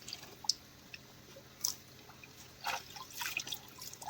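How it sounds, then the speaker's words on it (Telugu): Clean spring water trickles down between rocks on a hillside, heard as faint, scattered drips and small splashes over a quiet background, with a few louder drops near the end. "రాళ్ల మధ్యలో నుంచి స్వచ్ఛమైన చల్లటి నీటి కూడా దిగుతోంది"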